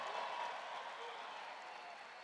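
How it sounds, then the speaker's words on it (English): A big crowd at a February 2020 rally in Nevada applauds a gold medal team, steady dense clapping and cheering filling the hall at an even level throughout. "Give them a big hand."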